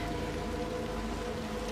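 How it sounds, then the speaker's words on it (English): Rain in the video game Little Nightmares 2 falls as a steady, even hiss of drops, soft and constant throughout. "Oh, jeez, it's raining"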